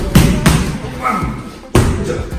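Drop kicks and push kicks land on an opponent during a Muay Thai-style pad or sparring drill: three or four heavy thumps with sharp broadband impacts in a one-two rhythm, close and loud, with a brief voice between strikes.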